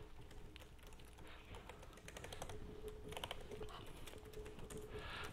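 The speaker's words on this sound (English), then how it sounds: "No, just casual typing, no flex." Casual typing on an MSI GE70 laptop keyboard, a quiet stream of rapid, irregular key clicks heard close up with no talking.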